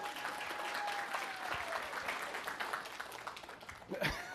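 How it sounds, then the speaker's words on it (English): Applause from a church congregation during a sermon, a steady wash of clapping at moderate distance that fades near the end, with some voices around it. "Give Jackie a round of applause"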